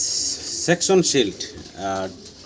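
A shield double crest pigeon in moult coos in a few soft throaty bursts at close range, separated by brief pauses, with a second rounder coo near the end.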